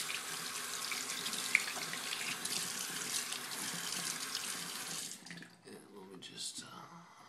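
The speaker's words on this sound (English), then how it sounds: "Let me just clean up the sink area." Water runs steadily from a sink tap during cleanup of a sink area, a loud close hiss that cuts off partway, followed by quieter handling sounds and a voice speaking.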